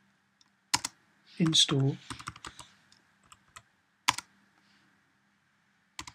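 Several short bursts of computer keyboard typing on a Raspberry Pi setup, with sparse clicks separated by pauses, while a person speaks briefly between the keystrokes.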